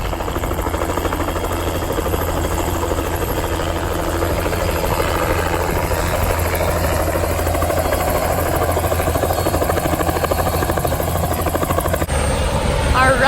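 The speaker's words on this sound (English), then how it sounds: "we're going on a helicopter ride." A helicopter arrives to pick up passengers for a ride, its steady loud rotor and engine roar filling the whole stretch, close by and constant, with faint voices underneath.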